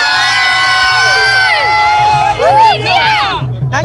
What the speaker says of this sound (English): Give me a loud cheer once again for India.